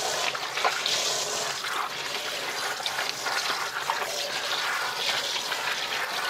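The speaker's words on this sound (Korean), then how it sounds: "이제 물을 틀고요" Tap water running while octopus is rinsed in a sink: a continuous rushing, splashing stream with shifting spatter as the flow is broken up, steady and fairly close throughout.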